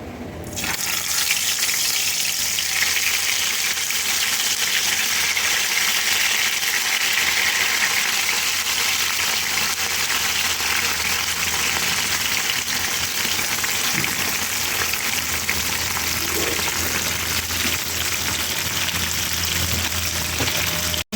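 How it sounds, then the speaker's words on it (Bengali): Hilsa fish wrapped in bottle gourd leaves frying in hot oil, a loud, steady, rushing sizzle that fills the whole stretch without letting up. "এখন আমি তেলে ভাজবো। আমি তেল দিয়ে দিলাম। এবার আমি মাছগুলোকে ভেজে নেব।"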